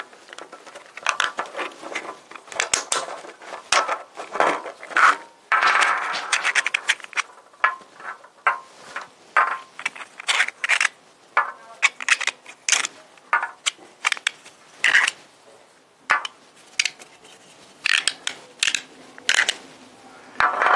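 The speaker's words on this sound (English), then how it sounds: "So let's take it apart. We can take the screws out." Colorful screws are worked out of a puzzle wall, giving close, irregular scraping, clicking and rattling bursts with short gaps, fairly quiet overall.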